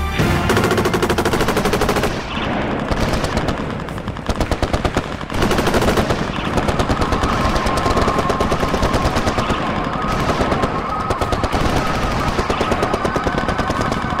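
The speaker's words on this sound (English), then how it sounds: "In a matter of seconds, a hurricane of bullets." Dense machine-gun and rifle fire in an ambush on guerrilla fighters, a near-continuous hurricane of rapid bursts that runs loud throughout with brief dips.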